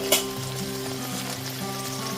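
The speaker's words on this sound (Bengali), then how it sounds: "দু থেকে তিন মিনিটের জন্য সিমটা ঢেকে আমি ভেজে নিয়েছি" Flat beans fry in a pan over a gas flame with a steady, close sizzle and a faint crackle. A couple of sharp clinks mark the start and end, and nobody talks.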